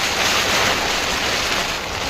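Heavy, steady rain of the season's first monsoon hisses loudly alongside gusting wind at night outdoors, a dense unbroken wash of noise with no voices.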